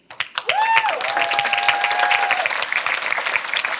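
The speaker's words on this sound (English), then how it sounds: "how about a round of applause for our DJ, Nick Gagney?" Applause from a ballroom crowd at a community coronation ball, broad and steady for several seconds after a brief tonal musical sweep at the start, loud and sustained with no voices on top.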